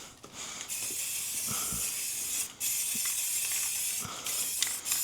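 A spray gun lightly tacks etching primer onto a bare metal Chevrolet square-body dually wheel in a steady, close hiss, broken by a few short pauses between passes.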